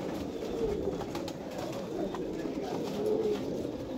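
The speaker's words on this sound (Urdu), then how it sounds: "یہ کبوتر بھی دیکھو ماشاء اللہ جناب" Pigeons kept in a loft in Jhelum give soft, low, rolling coos that repeat steadily over a constant background hum, fairly close and even in level, with no clear talk.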